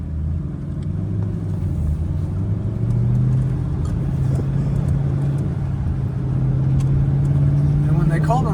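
A 2009 Ford Mustang GT V8 warm-starting and revving, a deep engine rumble whose pitch climbs steadily across several seconds, loud and close, with a person talking over it.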